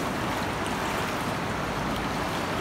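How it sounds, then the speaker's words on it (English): Steady broadband rush of a river flowing right beside a hiking trail, continuous and fairly close with no clear breaks, no voices. "Trail goes right along the river."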